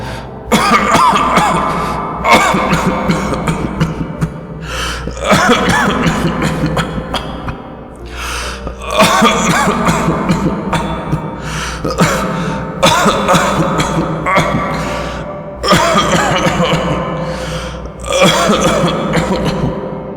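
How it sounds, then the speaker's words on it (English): A harsh, prolonged coughing fit with repeated bursts of hacking coughs and brief gasping pauses between them, loud and close, continuing for about twenty seconds. "How long have you had that cough?"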